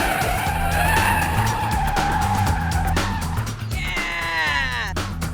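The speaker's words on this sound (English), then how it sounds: "The guys will get to grips with the 180 spin technique on a normal car first." A normal road car performs a 180-degree handbrake spin, its engine droning loudly throughout as the tyres skid, ending in a rising, sweeping squeal as the car whips around.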